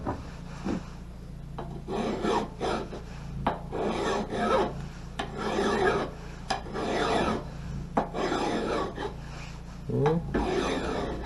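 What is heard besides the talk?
file sharpening an axe blade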